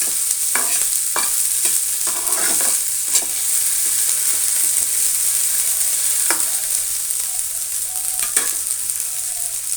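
Potatoes frying in oil with banana flower and fenugreek, a steady loud sizzle throughout with occasional scraping stirs of a spatula in the pan, no voices.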